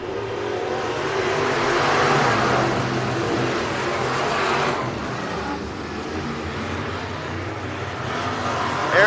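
A pack of IMCA Modified race cars accelerates at a race start at Heart O' Texas Speedway, a loud, steady roar of engines that swells and holds throughout.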